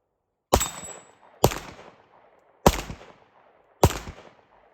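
Four sharp, loud gunshots from a Tisas Duty full-size 9mm 1911 pistol, evenly spaced about a second apart, each with a short fading echo.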